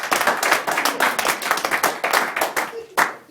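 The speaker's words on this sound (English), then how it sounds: "Yeah, round of applause." Scattered claps from a small audience at an event, loud and close, with uneven individual hand strikes rather than a dense roar, fading out after a final burst of claps.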